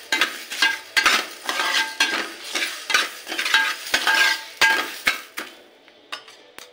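Coriander and mustard seeds frying in a hot pan for Telangana-style fish fry, scraped and stirred with a spoon in quick repeated strokes over a light sizzle, close and rhythmic, fading at the end.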